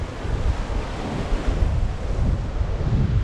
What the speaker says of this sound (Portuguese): A água do mar tá espetacular essa água do mar.